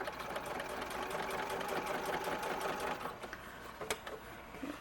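Sewing machine running steadily as it top-stitches the sleeve edge of a red coat, a continuous close mechanical whir and rapid needle ticking with a few small clicks near the end.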